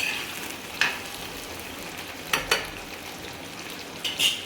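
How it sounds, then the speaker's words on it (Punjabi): Steady hiss of potatoes frying in hot oil over a high gas flame, with a few sharp crackles and pops rising over the sizzle. "ਆਪਾਂ ਆਲੂਆਂ ਨੂੰ ਪਹਿਲਾਂ ਆਪਾਂ ਲੰਬ ਫਰਾਈ ਕਰਕੇ ਕੱਢ ਲਾਂਗੇ"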